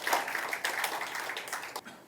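Applause from a seminar audience at an academic event on traditional Korean medicine and liquor, a steady wash of many hands clapping throughout, fairly close and moderately loud.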